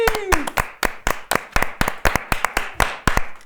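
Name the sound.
applause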